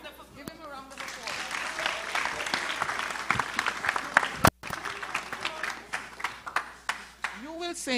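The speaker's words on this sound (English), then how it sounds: "a round of applause." A university freshmen orientation audience gives a round of applause, a dense wash of clapping that swells and fades, with a loud voice speaking over parts of it.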